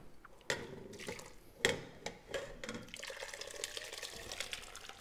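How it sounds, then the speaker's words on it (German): Gravy with vegetables and onions poured onto a very fine sieve, a steady liquid splashing and trickling with a couple of sharper splashes near the start, fairly close and without talk. "Und dann wird das Ganze auf ein ganz feines Sieb gegossen."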